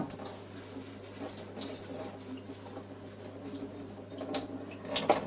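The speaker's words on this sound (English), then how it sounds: "all we need to do is just give them a good rinse under warm water." Warm water runs steadily from a tap over Bosch Athlet cordless vacuum filters being rinsed, a continuous close splashing flow with a few louder splashes and no talk.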